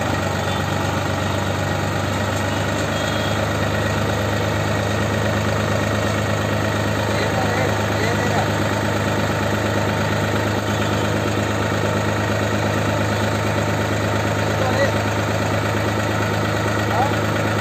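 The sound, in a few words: engine of pole erection machine, accelerator pressed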